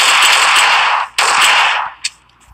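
Gunfire in the mobile battle game PUBG Mobile comes as two loud, sustained bursts of rapid shots separated by a brief gap, followed by a faint click, with no talking.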